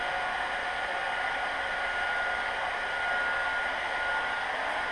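A heat gun blows a steady, continuous hiss of hot air while warming the back side of a plastic fender for a Zforce 800, loud and even throughout with no talking.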